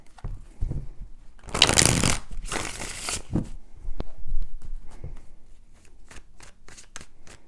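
Tarot cards are shuffled in a few quick riffling bursts, followed by soft taps and slides of cards being handled close by.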